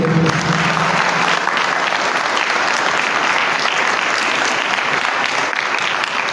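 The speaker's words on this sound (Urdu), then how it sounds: "آج میں چاہوں گا کہ ہم اپنے بچوں کو بھرپور تالیاں بجا کر داد دیں۔" A church congregation gives loud, full applause for children, the massed clapping steady and unbroken throughout, with a brief voice trailing off at the very start.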